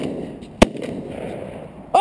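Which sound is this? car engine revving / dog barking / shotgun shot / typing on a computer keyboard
shotgun shot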